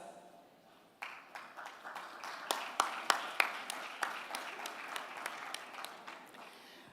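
Audience at a debt and development conference breaks into applause, starting thin then swelling into steady clapping with a few sharp, prominent claps standing out, moderately distant in a large hall.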